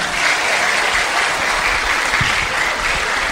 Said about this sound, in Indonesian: Kasih tepuk tangan dulu buat Farid.